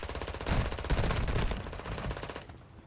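Rapid automatic gunfire bursts in the mobile shooter Warzone Mobile, loud and close and nearly continuous, then it fades out near the end.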